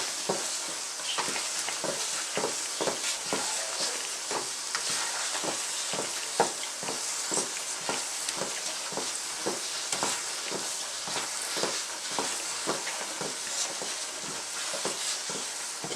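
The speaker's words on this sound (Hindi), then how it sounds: "चंद सेकंड के लिए इसको अब हमने भूनना है।" Grated green pumpkin halwa roasting in ghee in a pan gives a steady loud sizzle throughout, with a regular rhythm of stirring scrapes running across the whole stretch and no voices.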